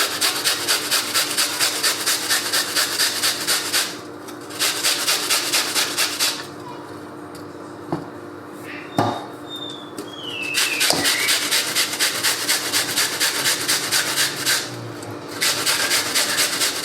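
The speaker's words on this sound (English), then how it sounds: "grate the onion into the pan." Onion being grated into a pan, close rhythmic scraping strokes in quick bursts separated by short pauses, with a few light knocks in between.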